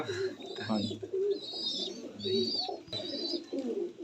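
Pigeons coo low and close in repeated rolling phrases at a breeder's loft, while high chirps from smaller birds overlap throughout.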